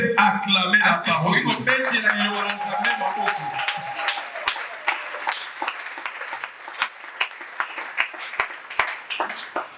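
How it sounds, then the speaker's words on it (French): A church congregation bursts into applause, dense clapping mixed with voices at first, then thinning into scattered, sharp individual claps that fade toward the end. "Est-ce qu'on peut acclamer la parole?"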